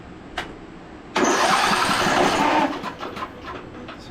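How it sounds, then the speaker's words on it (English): A Craftsman riding mower engine cranks over with its spark plug removed, heard as a sustained, fairly loud whirring churn of the starter lasting about a second and a half, then tapering off, with no voices. "should be good to crank"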